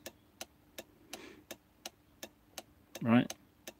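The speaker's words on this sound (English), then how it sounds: "Can you hear the indicator going?" Steady regular ticking of a vehicle turn-signal indicator, about three clicks per second, close and fairly quiet, with a brief burst of voice partway through.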